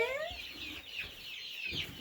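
Baby meat-bird chicks peep in high, rapid chirps that overlap continuously at close range, with no talking.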